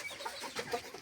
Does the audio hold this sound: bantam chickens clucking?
yes